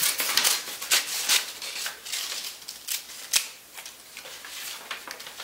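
Scissors snip through brown paper for a collage, a quick irregular series of close, crisp cuts and rustles with short pauses between, no talking.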